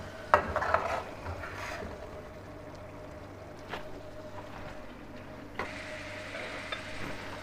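Beef karahi with sliced green chillies and ginger being stirred in a pan, a soft continuous sizzle with scattered scraping and clinks of the spoon against the metal.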